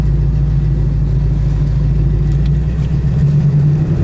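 A cold 1972 Ford Mustang convertible with a 351 Cleveland V8 idles steadily at about 900 rpm, a loud, close, even low rumble that holds throughout with no talking.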